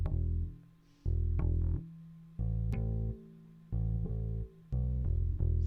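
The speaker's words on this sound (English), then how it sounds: "the clean bass sounds like this" Clean electric bass guitar played straight into an audio interface, a loose bass line of separate low notes and short phrases with gaps between them, close and dry, no voices.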